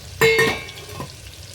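Onions sautéing in a pan for vegetable biryani, a short burst of loud stirring and sizzling near the start, then a quieter fading hiss with a faint scrape.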